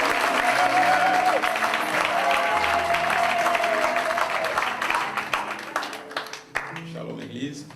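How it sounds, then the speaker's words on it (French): A church congregation at a tabernacle in Liège applauds some brothers, with sustained clapping from many hands that starts loud and full. It then thins and fades toward the end as a voice comes in. "Acclamons quand même les frères"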